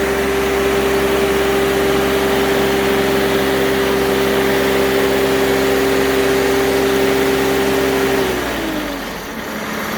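Engine on a Timberking 2220 sawmill runs at a loud, steady drone with a constant hum for about eight seconds, then drops off and winds down near the end.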